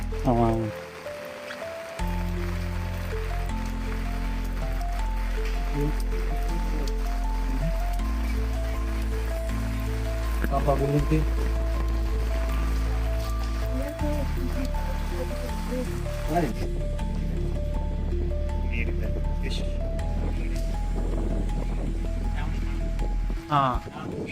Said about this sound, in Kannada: ಸಕ್ಕತ್ತಾಗಿ ಮಳೆ ಬರ್ತಾ ಇದೆ ಇವತ್ತು